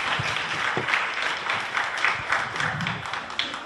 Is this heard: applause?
yes